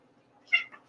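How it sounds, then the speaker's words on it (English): A single short cat meow in the background of a home kitchen during live cooking, faint and distant against a quiet room. "you can hear my channel mascot back there meowing"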